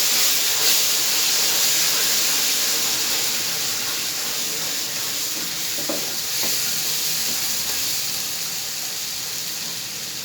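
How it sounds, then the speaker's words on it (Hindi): Milk batter poured into roasted semolina in a pan for suji and egg halwa hisses and sizzles with steady steam, a loud, close, continuous fizz lasting several seconds with faint stirring. "इसमें अब हम ये दूध वाला बैटर ऐड कर रहे हैं"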